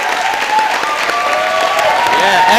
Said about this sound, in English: one more round of applause for this incredible group of young men and women